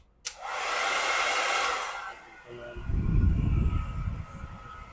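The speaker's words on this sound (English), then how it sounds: "I'll lightly hit it with the blow dryer." A blow dryer switches on with a click and blows a steady airy whoosh over a stencil on fake skin for about two seconds, then cuts off, followed by low rumbling handling noise.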